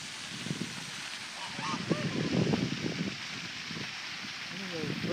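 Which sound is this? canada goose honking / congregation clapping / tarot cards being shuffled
canada goose honking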